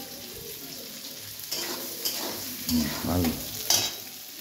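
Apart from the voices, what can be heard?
onions frying in a pan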